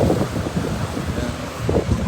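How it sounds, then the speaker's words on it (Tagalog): Steady broadband wind rushes across an open cruise ship deck with the sea nearby, a continuous buffeting roar with low rumble and gusts swelling toward the end, no voices present. "Saka ang hangin. Dito pa yung hangin."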